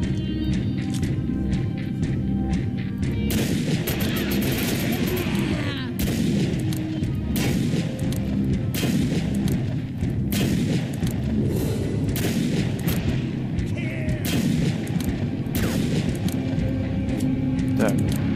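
A turret fires in the sci-fi shooter Defiance: repeated loud, sharp bursts of gunfire crack over a constant rumbling background, with voices talking between the shots.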